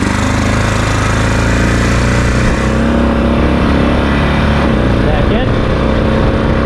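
Honda Rincon ATV engine running loud and close with a rough, chattering idle and slight shifts in pitch as gears change, a voice speaking over it.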